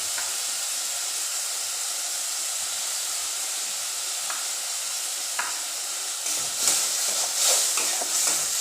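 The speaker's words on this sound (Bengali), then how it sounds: "আমার মশলাটা এখানে কষানো চলছে" Spice paste with a little water, salt and sugar sizzles steadily in a pan as it is stir-fried, with a constant hiss and a few scraping stirs near the end.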